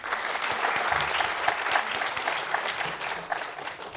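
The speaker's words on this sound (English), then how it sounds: "Please give them a huge round of applause." Audience applauding at the launch of a design school, a dense, steady wash of clapping from a crowd that continues for several seconds without talk over it.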